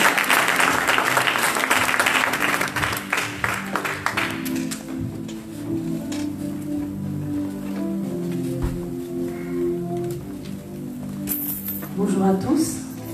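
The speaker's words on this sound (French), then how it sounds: "Est-ce qu'on peut l'acclamer s'il vous plaît? On peut l'encourager." A congregation applauds and cheers, dense clapping loud at first and then thinning as speech and music take over, with a fresh burst of applause near the end.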